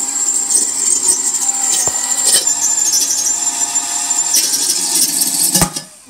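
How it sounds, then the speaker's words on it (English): A power drill with a small bit bores into a concrete bird bath. It gives a loud, close, sustained high whine with brief clunks, then cuts off near the end. No one talks. "He's changed drill bits, it's a lot smaller."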